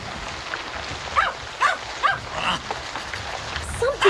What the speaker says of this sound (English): Timmy began to bark again, startling everyone